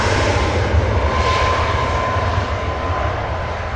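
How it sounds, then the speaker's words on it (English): A Ryanair jet airliner departing, its engines producing a loud, steady roar that holds evenly throughout with no voices. "Ryanair finally getting out of here"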